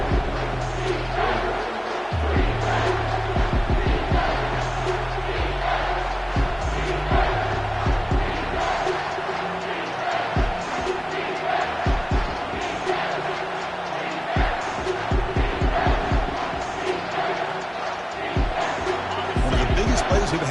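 A large crowd at a football stadium roars continuously during a third-down play, a dense, loud wash of cheering and shouting that never lets up.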